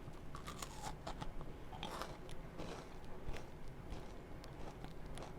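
Quiet, close crunching and chewing of a chocolate covered cricket with irregular crisp bites, soft and continuous, no voices.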